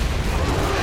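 Gunfire from the shooter game Zombies Monsters Robots, a dense, continuous burst of booming shots during a fight against dinosaurs, loud and close for under a second, with a player's voice underneath.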